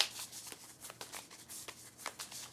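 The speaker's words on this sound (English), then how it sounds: "So let me shuffle these because they said you shuffle these." A deck of story cards for a tabletop game is shuffled by hand, quiet quick riffling bursts repeating in an uneven rhythm, close and soft with no talk.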